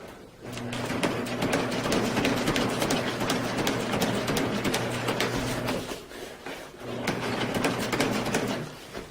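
A sewing machine, just re-timed after some broken needles, stitches a tarp with a close, busy mechanical whir and rapid clatter that runs steadily, stops briefly, then starts again.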